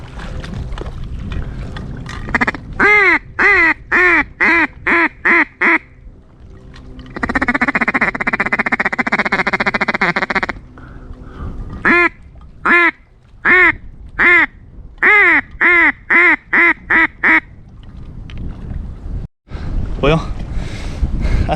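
Loud, rhythmic duck quacking in repeated bursts up close during a duck hunt, separated by a few seconds of harsh buzzy calling and gusts of wind noise.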